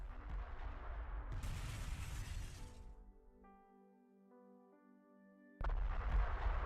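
In a video game convoy battle, shells explode as a loud crashing burst that shatters and rolls off over a few seconds. Quieter sustained tones follow, and then another heavy blast hits abruptly at the end.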